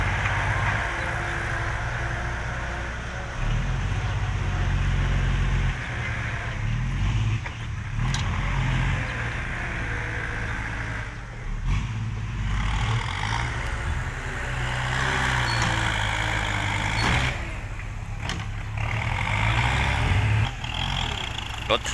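A tractor pushing wet soil on a slippery fill site runs with a steady low engine drone that rises and falls as it works, while someone talks over it in places.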